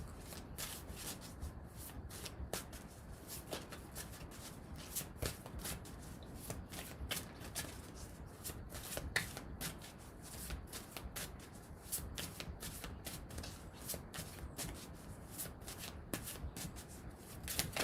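Tarot cards are shuffled by hand in a quiet room, giving a rapid, continuous riffling and rubbing patter with frequent soft slaps, close and faint, with no one speaking.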